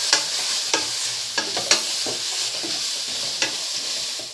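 A fish head fries with onion, turmeric and salt in hot oil, a steady close sizzle broken by several sharp scraping stirs of a spatula.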